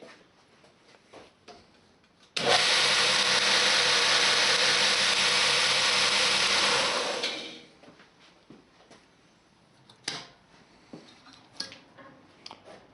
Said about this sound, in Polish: możemy włączyć wszystkie maszyny tutaj po kolei